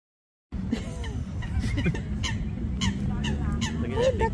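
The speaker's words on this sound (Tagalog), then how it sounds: "there's so many duck" Ducks quack and honk in a busy cluster at a park pond, with several birds calling close by over steady low background murmur and faint voices.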